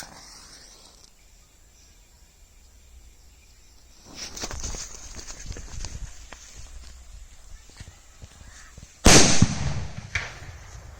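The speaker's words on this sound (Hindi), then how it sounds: "तो दोस्तों यह सुतली बम है, तो हम इसकी टेस्टिंग करेंगे, देखेंगे यह कैसा बजता है।" After a stretch of crackling and rustling, a single loud, sharp sutli bomb firecracker blast bursts out close by, then quickly fades away.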